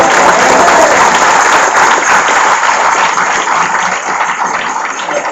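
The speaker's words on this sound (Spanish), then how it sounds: "denle palmas a esto" Church congregation applauding during a Spanish-language sermon: loud, dense clapping from a crowd, sustained throughout and easing slightly toward the end.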